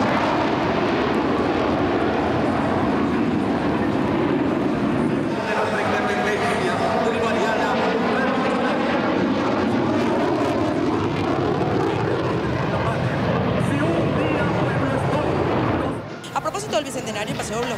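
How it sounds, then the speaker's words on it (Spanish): Military jet aircraft, Sukhoi fighter-bombers and Chinese K-8 trainers, fly over a bicentennial military parade, giving a loud, sustained engine roar that swells and fades before cutting off near the end. "también la aviación militar desfiló con helicópteros de fabricación rusa, aviones de entrenamiento chino K-8 y cazabombarderos Sukhoi"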